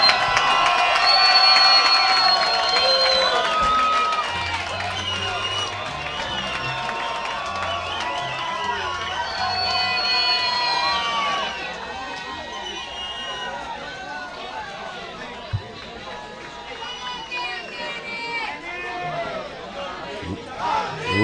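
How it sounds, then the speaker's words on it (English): A large crowd in Puerto Rico cheers and roars at a boxing weigh-in as WBC super lightweight champion Danny Garcia makes his entrance, loud and dense, with whistles and shouts and an announcer talking over the noise. "Listen to that crowd as Danny Garcia makes his way here."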